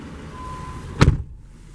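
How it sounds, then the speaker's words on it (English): The door of a 2012 Ford F-250 King Ranch pickup shuts with a single close, solid thump over a quiet engine hum, and then the sound goes muffled. "Go ahead and close the door."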